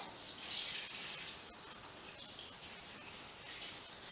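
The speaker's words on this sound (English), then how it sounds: "I'm just going to bung a load of water in." Water poured into the vessel of a distilling kit used for extracting eucalyptus oil, a soft continuous splashing trickle, faint and steady for several seconds with no voices.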